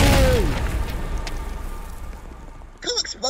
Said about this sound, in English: Cool explosion!